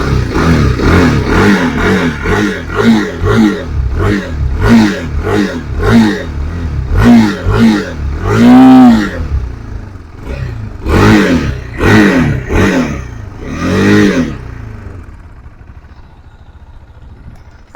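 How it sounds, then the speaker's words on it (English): A KTM RC390 motorcycle revs repeatedly from a standstill, a rapid series of loud, close blips of its exhaust note with short pauses between bursts, fading toward idle at the end. "I hope you guys like the exhaust note as well."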